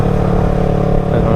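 A Yamaha R3 motorcycle fitted with a loud aftermarket exhaust rumbles steadily close by, a throaty engine note that holds without pause through the brief moment.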